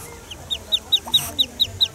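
A mother duck nesting in a tree hollow gives a quick, evenly spaced series of about seven short, sharp calls, moderately close and fairly soft against a quiet background.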